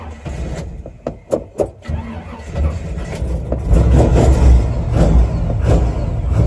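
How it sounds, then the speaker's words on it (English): A 1970 Chevy C10 truck cranks with several sharp starter bursts, catches, and settles into a loud, rough, steady idle close by. "I usually let the truck warm up just a little bit, just to make sure the engine will idle on its own."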